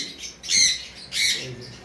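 A cockatiel gives two loud, harsh squawks about half a second apart, close by, with faint background noise between the calls.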